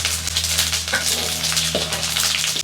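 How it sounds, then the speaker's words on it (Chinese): Sichuan peppercorns and fennel seeds crackle in hot oil, a steady close sizzle with faint clinks, alone without talk, as the spices are bloomed for dry-fried quail. "花椒、小茴香爆香"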